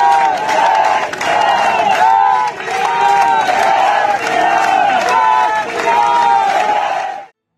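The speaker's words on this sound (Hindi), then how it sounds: "ये लोग धरना दे रहे हैं, तालियां बजा रहे हैं और फिर जय श्री राम के नारे लगा रहे" A protesting crowd in front of a police station claps in rhythm and chants religious slogans in unison, loud and close, the rhythmic chant repeating steadily until it cuts off.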